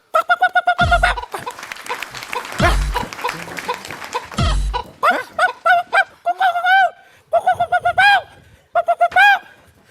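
A chicken clucking repeatedly in short bursts and rising squawks, loud and close, interspersed with brief sharp knocks and bits of voice in a comedy sketch setting.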